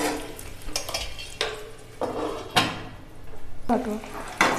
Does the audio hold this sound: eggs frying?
yes